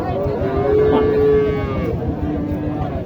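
A Holstein Friesian cow at a busy cattle market gives a long, loud, tonal moo lasting over a second, over dense crowd chatter and market bustle.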